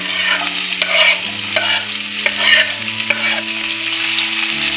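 Onions with whole cumin and crushed garlic fry loudly in a pan for palak paneer, a dense continuous sizzle with a low steady hum beneath and soft regular stirring strokes.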